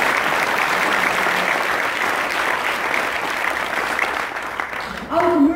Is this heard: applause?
yes